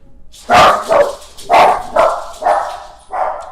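Several dogs, reacting to something at the door, bark loudly and close by in a quick, uneven series of about six sharp woofs.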